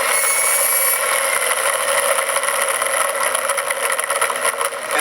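Small electric motor spinning at 7,000 RPM, a loud, steady high-pitched whine with a buzzing edge that holds constant through the whole stretch, close up with no talk.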